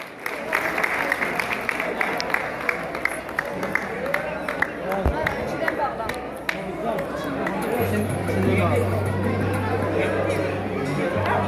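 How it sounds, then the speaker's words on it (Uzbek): An audience at a gathering claps in scattered, uneven applause amid loud crowd chatter and voices, with a low steady hum in the later part. "sarpalonbora qarsaklar marhamat"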